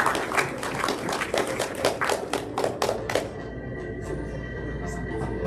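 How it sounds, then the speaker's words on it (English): Applause at a drone racing regionals event, a burst of many quick claps and taps that fades after about three seconds, leaving a steady background hum. "let's give a round of applause to Montpelier, who will not be able to make it here today"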